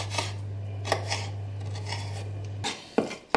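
A knife taps and clicks against a cutting board in a few irregular strokes, slicing chilies, over a steady low hum, with no talking.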